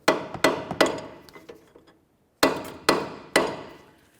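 Sharp hammer blows ring out against a Volvo S40 front lower ball joint, three strikes, a quiet pause, then three more, each a loud metallic clank with a short decay.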